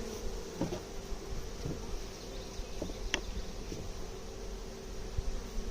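Steady honeybee buzzing hums around an open hive throughout, with a few brief louder passes as individual bees fly close to the microphone.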